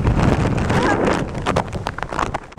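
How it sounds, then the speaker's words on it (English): Strong gusting wind at a waterfront college campus during a hurricane, roaring broadband across the whole clip with buffeting bursts against the microphone, loud and close. "it's just super windy"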